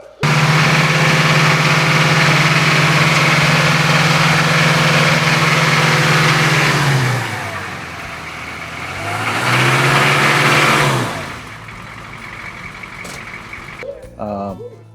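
A CUCV military truck engine runs loud and close, holding a steady rumble before dropping to idle and revving back up once, then falling quiet again, with a few faint knocks at the end.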